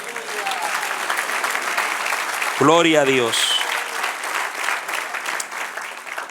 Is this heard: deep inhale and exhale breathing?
no